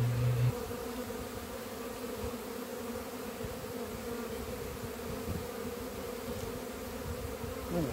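Honeybees hum in a soft, continuous drone while being moved from a nucleus hive into a full hive. The buzzing stays even and fairly close throughout, with no voices.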